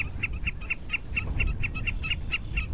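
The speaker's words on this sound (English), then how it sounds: "Yellow-headed blackbirds. They sure put everything they got into their songs." A yellow-headed blackbird repeats a rapid series of sharp, evenly spaced calls, moderately distant over a low rumbling background.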